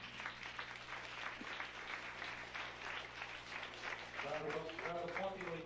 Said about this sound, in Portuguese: Severino Batista, todos acolhamos com uma salva de palmas.